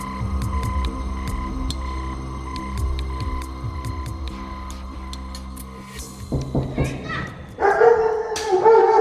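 A dog barks in a run of sharp repeated woofs over a steady low hum, close and loud, then stops; people talk afterward.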